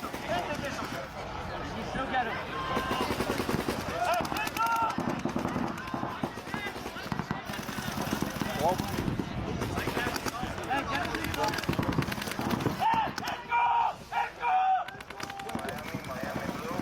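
Paintball markers fire rapidly during a pro NXL Europe paintball match, a dense, continuous rattle of shots under steady crowd and field noise, with voices mixed in throughout.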